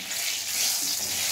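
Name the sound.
dried red chillies sizzling in hot oil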